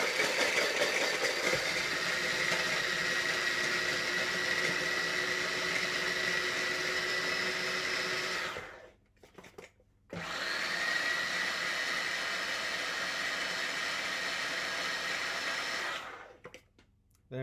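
A food processor grinding ingredients for a Christmas pudding tart, a loud, steady whirring motor run that stops briefly, restarts, then cuts off again, with no talking.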